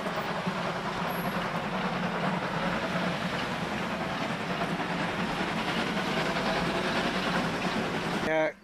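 A class 95 steam locomotive pulls into Lauscha station in wintry Thuringia, a loud, steady rumble of the train running without a break until it cuts off abruptly at the end.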